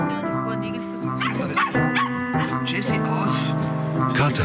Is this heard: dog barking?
yes